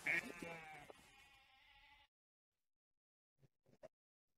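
A sheep bleats once, loud and wavering, at a church nativity play. The bleat trails off into silence, followed by a few faint knocks.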